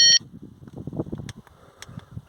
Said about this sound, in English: Let's turn that buzzer off.